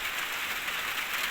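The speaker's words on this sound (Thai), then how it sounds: "แต่ว่าฝนตกอีกแล้วบัดนี้" Stormy rain falls steadily in Laos, a soft, even hiss with no breaks, faint and distant, with no voices.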